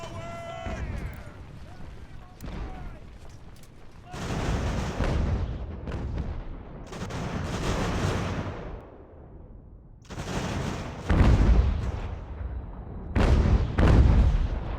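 Mortar artillery booming in the American Revolution strategy game Ultimate General, with repeated heavy blasts and rolling rumbles in long bursts, some louder and closer than others, alongside a steady battle din and occasional talk.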